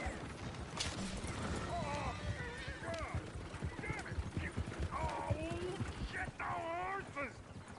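Video game audio: hooves clip-clop under scattered horse whinnies and voices calling out, all fairly faint and mixed together.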